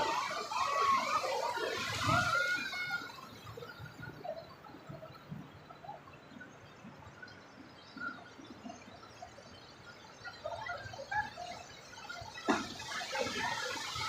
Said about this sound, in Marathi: आज तर जोरातच येत आहे समुद्राच्या लाटा